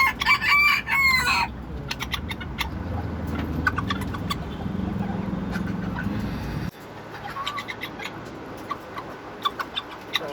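Bantam chickens being fed banana cluck and crow nearby, with a loud burst of calls at the start and scattered sharp clucks later over a low background rumble.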